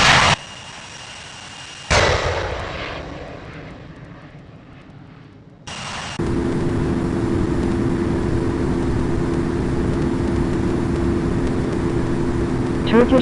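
Airbus A350 jet engines taxiing on an airport taxiway, a steady loud whine and roar that builds after a few seconds and holds as a continuous drone, with a brief burst of louder noise earlier.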